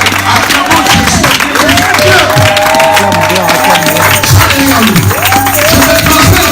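A church congregation at a special worship service cheers and acclaims Jesus, a loud, dense crowd of shouts, whoops and clapping that keeps going without a break, with voices calling out over it.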